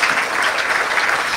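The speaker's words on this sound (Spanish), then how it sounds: "Aplausos nuevamente" Audience applause at a Women's Day event on preventing gender violence, a steady wash of clapping from a crowd that holds evenly throughout.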